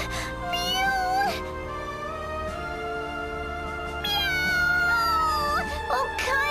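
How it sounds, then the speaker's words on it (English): A cartoonish cat meows repeatedly in the Bravely Second video game, bright pitch-bending mews over steady background music, with a second burst of meowing later in the clip. "Meow!"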